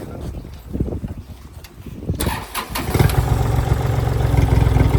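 A used Kubota tractor's engine turns over, then settles into a loud, steady chugging idle with revs rising above it. Voices talk nearby throughout.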